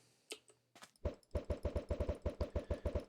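A video game weapon firing snowballs in Snowball Madness, a few scattered clicks and then a fast, even burst of about fifteen punchy thumping shots, close and loud.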